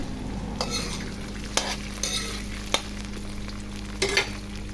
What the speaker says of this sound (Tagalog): So, halu-haluin lang natin ang ating meatloaf hanggang mag-crunchy yung every corner niya.